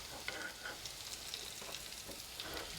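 Garlic frying gently in hot oil for a pork dish, a soft, even sizzle with light crackles and faint stirring, fairly quiet and steady throughout.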